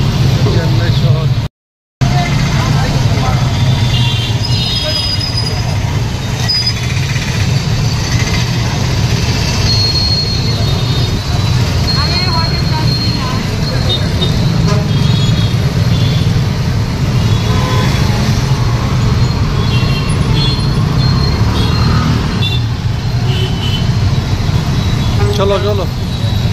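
Busy main road traffic in Chennai city beside a metro rail line and market, a loud continuous rumble of passing vehicles with occasional horn toots and voices underneath, briefly cut out near the start.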